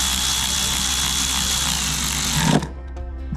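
A power tool whirs steadily while snugging down a bolt during a coolant reroute on a turbo Miata, then abruptly stops, leaving faint clicks afterward.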